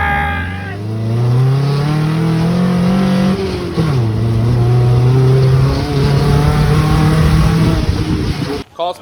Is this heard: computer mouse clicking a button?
no